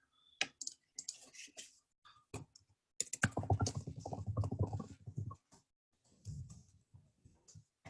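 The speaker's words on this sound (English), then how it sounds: "actually I can type them in the chat or in here." Close computer keyboard typing in irregular bursts of crisp clicks, with one longer dense run of keystrokes in the middle and quiet gaps between.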